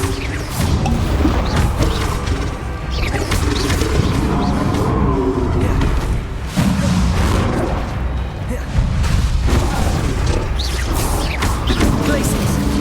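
Bombarda blasting spell explosions during combat in the video game Hogwarts Legacy, loud repeated crashing booms and smashes over dense game audio, with creature roars and brief lulls between blasts.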